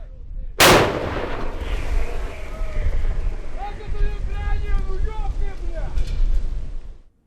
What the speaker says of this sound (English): Artillery duels are fought daily.